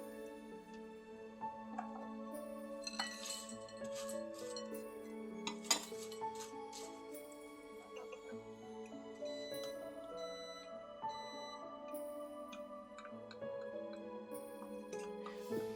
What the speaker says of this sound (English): Mix all of your ingredients together at once.